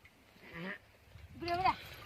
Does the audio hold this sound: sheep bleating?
yes